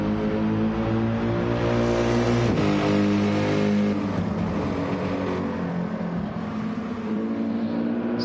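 Mercedes race car engine in the Gran Turismo 7 video game during a league race, a loud sustained engine drone that shifts pitch as the car accelerates through gears, heard on its own.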